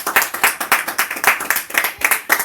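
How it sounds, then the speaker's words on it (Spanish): A church congregation claps in a loose rhythm during a worship service, a run of distinct, fairly quick hand claps, moderately loud and uneven in timing, with no voices over them. "Demos un aplauso a nuestro Señor Jesucristo"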